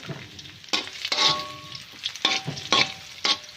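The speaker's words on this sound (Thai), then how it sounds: "เอาน้ำมันเทลงไปแล้วนะเจ้า น่าก็จะใส่กระเทียมสับ ลงไปเจียวก่อนนะเจ้า" Minced garlic frying in hot oil for Thai pad see ew, giving a close, steady sizzle broken by several sharp bursts of stirring and scraping in the pan.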